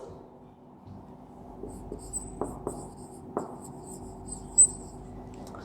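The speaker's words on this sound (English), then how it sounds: "writing that point on the board" Writing on a classroom board during a science lesson: soft scratchy marker or chalk strokes with a few sharp taps, close and fairly quiet, with faint high chirping in the background.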